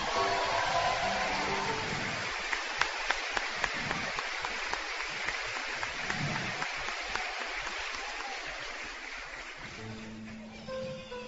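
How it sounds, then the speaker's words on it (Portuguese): Applause from a Catholic gathering's audience, a steady wash of many hands clapping that holds for about ten seconds before thinning out, with a voice resuming near the end. "mais uma salva de palmas porque ela merece"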